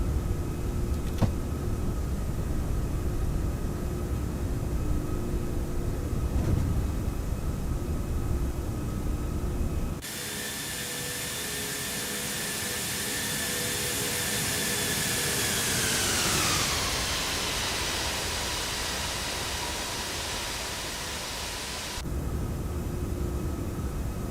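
Jet engines of an Airbus A340-600 roar steadily as the airliner climbs after takeoff in the X-Plane 11 flight simulator, a broad, loud whine whose pitch sweeps downward midway through.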